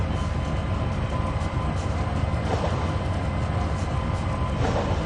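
Train rolling along track in the Trainz 2022 railway simulator game, a steady, loud continuous rumble with faint wheel noise throughout, no talking.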